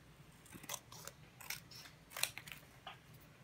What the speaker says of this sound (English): Just cut the edges.